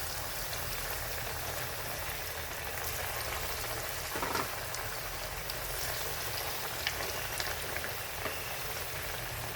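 Bottle gourd vadis fry in very hot oil on full flame, a soft, steady bubbling sizzle like light rain, with occasional faint crackles and no talk.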